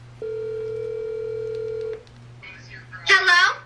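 A telephone call starts with a long steady dialing tone on a phone, then a brief pause and faint ringing, before a voice answers loudly at the end.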